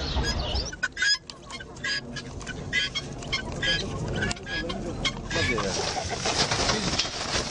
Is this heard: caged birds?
yes